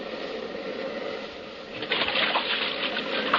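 Water splashes and gushes as a boat runs up onto a beach in a radio drama, a steady wash of surf that swells louder about halfway through as the hull hits the shore.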